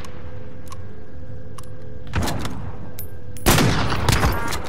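Gunfire in Call of Duty Cold War on Rebirth Island: two loud bursts of shots, a short volley then a longer louder one, with faint clicks before.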